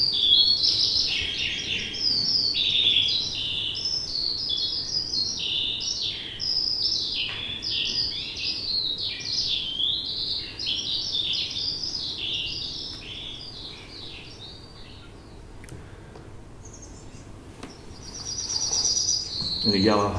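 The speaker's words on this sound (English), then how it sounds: "Yellowhammer, a little bit of bread and no cheese, classic finch of summer cornfields and arable lands." Yellowhammer singing in summer cornfields and arable farmland, a rapid string of thin high chirping notes repeated over and over, fairly close, with a faint insect hum in the background.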